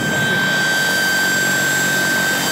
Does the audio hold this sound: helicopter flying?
yes